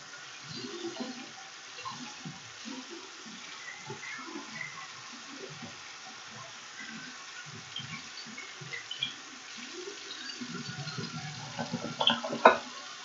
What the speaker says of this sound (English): I'm gonna wet my hands under running water.